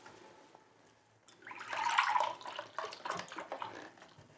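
Milk pours into a bowl for homemade bread dough, a close, gurgling liquid splash that swells for a couple of seconds and then trickles in uneven bursts.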